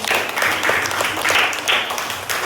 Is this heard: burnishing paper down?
no